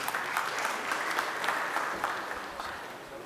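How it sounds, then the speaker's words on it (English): An audience applauds steadily for a few seconds after a guest speaker is introduced at a talk on additive manufacturing, the clapping even and moderately distant, fading slightly at the end. "With a round of applause, please."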